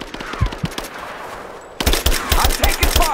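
Gunfire in the video game Rise of the Tomb Raider: loud automatic bursts of rapid shots, sparse at first, then after a short lull a dense, continuous volley.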